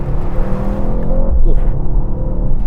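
Mercedes-AMG GT 63 engine revving while driving on a wet road, heard from inside as a deep raw rumble that swells and rises in pitch midway, loud and continuous.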